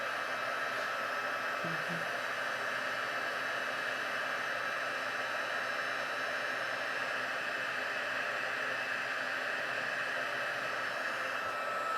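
A heat embossing tool blows hot air over a Stampin' Up! shaped butterfly card, a steady, even roar of airflow that holds for the whole stretch with no talking.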